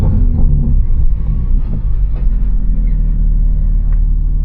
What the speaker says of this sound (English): you can hear the car more